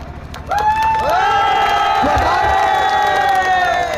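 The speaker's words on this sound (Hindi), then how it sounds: "तालियों के साथ उनका स्वागत करें।" A large outdoor political rally crowd in Jharkhand erupts in loud, sustained cheering, whoops and shouts, swelling after half a second and staying dense and close throughout.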